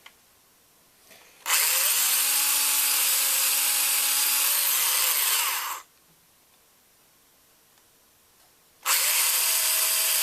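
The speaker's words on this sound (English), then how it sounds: "it's best if we pre-drill them." Power drill pre-drilling wooden shims on a workboard, two loud sustained whirring bursts close by separated by a quiet pause, with a third burst starting at the end.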